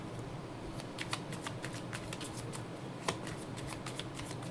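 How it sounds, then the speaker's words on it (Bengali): Tarot cards shuffled and drawn by hand, a steady run of quick papery riffles and flicks over about four seconds, close and fairly quiet with no talking. "আরও কার্ড নিয়ে নিই।"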